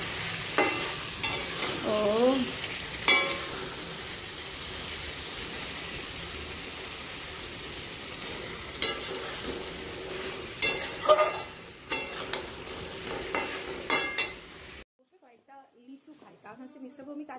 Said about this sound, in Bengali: মাংসটা কষো কারণ মাটন কষতে অনেকটা টাইম নেয়